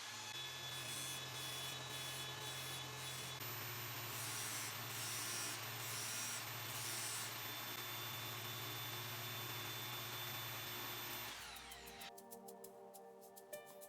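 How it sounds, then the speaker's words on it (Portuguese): A bench grinder runs steadily while a drill bit is sharpened against it by eye, the abrasive grinding hum loud and continuous with pulsing bursts of contact, then the wheel winds down and quiets near the end. "eu tenho que seguir afiando até os dois lados ficarem bem iguais"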